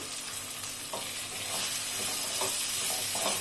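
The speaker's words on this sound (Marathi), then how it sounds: "कांदाही आपल्याला छानपैकी असा हलकासा तांबूस रंग येईपर्यंत परतून घ्यायचा आहे" Finely chopped onions fry in a pan for a street-style egg pulao, giving a continuous bright sizzle that grows slightly louder, with several soft stirring knocks spaced through it and no talking.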